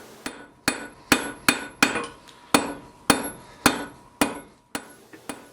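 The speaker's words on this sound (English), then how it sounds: "In this heat, I usually try to complete the shaping of the middle portion of the hook as well as drawing the taper." A blacksmith hammers a hot steel bar on an anvil while shaping a wall hook and drawing its taper. About a dozen loud, ringing hammer strikes land close by at an uneven pace, each decaying briefly before the next.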